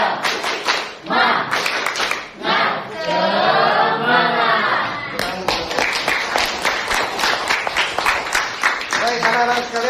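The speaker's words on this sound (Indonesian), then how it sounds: "Tepuk semangat." A school class performs a rhythmic spirit clap, crisp patterned hand claps in quick sequences broken by a sustained shout from the children, then more rapid clapping with chanting voices, loud and close.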